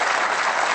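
Snooker crowd applauding Mark Selby's 147 maximum break at the 2022 British Open: dense, steady, loud clapping filling the whole moment without pause.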